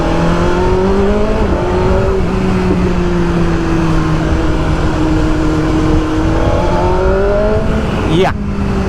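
A BMW motorcycle engine holds a steady, loud drone with rising and falling revs, then blips sharply near the end; someone talks over it.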